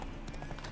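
Roach, the horse in Witcher 3, clip-clops along in a quick run of soft, close hoof knocks over a low, steady background of game ambience.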